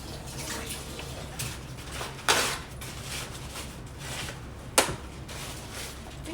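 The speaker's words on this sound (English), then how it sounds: "I'm just gonna wash my hands quickly" Hands being washed under a running kitchen tap while baking a cake, a steady hiss of flowing water with two brief splashes or clunks, close and moderately loud, no talking.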